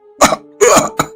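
An old man coughs three times in quick succession, harsh and close, the middle cough longest and the last short and clipped.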